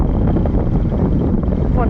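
Sea wind at Hat Chao Samran beach in Phetchaburi buffets the microphone in a constant loud, low rumble, with a person talking underneath.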